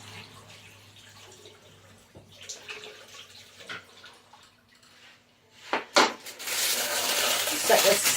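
Something is rinsed under a running kitchen tap: soft handling clatter first, then a loud, close rush of water swelling and continuing through the final seconds.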